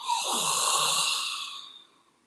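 A slow, steady breath pushed out through the mouth during a guided breathing practice, a soft airy rush that holds for about a second and a half and then fades away, close and alone with no talking.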